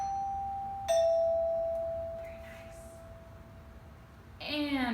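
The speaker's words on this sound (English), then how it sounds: "as the doorbell rang" A doorbell sounds a sustained chime tone, then a sharp ding partway through, followed by a voice.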